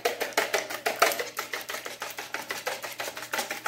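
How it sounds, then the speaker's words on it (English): Eggs whisked in a bowl to bread okra, a fast, even beat of near, crisp taps, about four or five strokes a second, running steadily throughout with no talk. "whisk the eggs up just a little bit"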